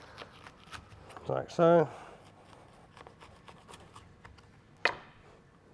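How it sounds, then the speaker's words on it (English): A knife cuts kernels off a charred corn cob with soft, repeated scraping strokes, quiet and close, while a voice speaks briefly between them. "So now I'm going to cut the kernels off our corn for our salad"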